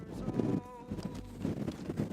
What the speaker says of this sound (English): Apologies for the wind, it is blowy.